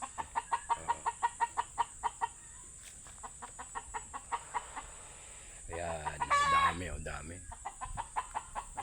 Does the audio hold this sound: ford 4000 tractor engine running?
no